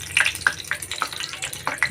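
Cumin seeds crackle and sizzle in hot oil during a tempering for suralichi vadi (khandvi), with short popping bursts spaced through a steady close frying hiss.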